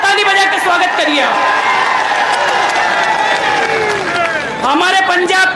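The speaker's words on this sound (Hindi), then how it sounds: "और जोरदार ताली बजा के स्वागत करिए" At an election campaign rally, a large crowd cheers and claps continuously, loud and dense throughout, with whoops and shouting voices mixed in and a rising swell near the end.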